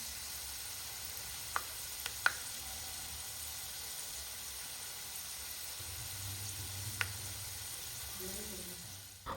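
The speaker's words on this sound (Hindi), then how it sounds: "तेल गरम कर लिया है, उसमें लहसुन, मेथी, अजवाइन ये सारी चीज़ें डालकर अच्छे से पका ली हैं" Garlic, fenugreek and carom seeds frying in hot oil, a quiet steady sizzle and hiss with a few faint clinks of a utensil and some low background murmur.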